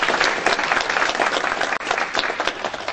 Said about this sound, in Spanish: a quien le brindamos un aplauso